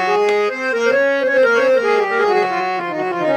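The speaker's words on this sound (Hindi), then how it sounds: "ये इसकी जाली बंद करके आवाज है" A DMS-18P triple-reed portable harmonium played without the coupler and with its grille closed, giving a sustained, reedy melody of held notes that glide between pitches, steady and fairly loud with no voices.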